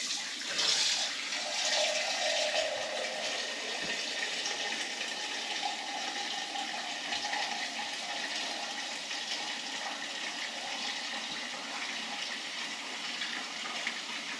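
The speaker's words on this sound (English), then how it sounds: "add a little bit of extra water until I fill the bucket the whole way to the top" Tap water pours into a bucket for curing ham, a steady gushing hiss with a low bubbling tone, moderately quiet and continuous, with no talking.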